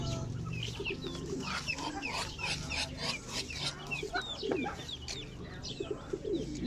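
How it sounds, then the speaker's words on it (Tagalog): Chickens clucking and chirping near a small hut in the countryside, a steady close chorus of overlapping calls and peeps with a faint background hum. "Dito lahat yung mga sisiw"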